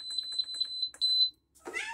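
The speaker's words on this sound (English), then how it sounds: "it's annoying beeping sound." A pressure canner's electronic controls give a fast run of high, shrill beeps, then one longer tone, followed by a short rustling noise.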